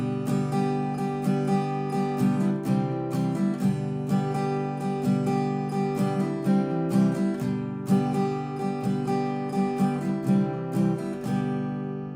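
Acoustic guitar strummed through the outro of a song, a steady rhythmic pattern of full chords played alone, clear and close with no voices.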